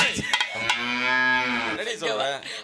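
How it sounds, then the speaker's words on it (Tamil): A cow moos in one long, loud, drawn-out bellow lasting more than a second, with a shorter lowing call and a few brief knocks around it, and no talking. "அன்னைக்கு மிதிச்ச மாடு இன்னும் கத்திக்கிட்டே தெரியுதுடா"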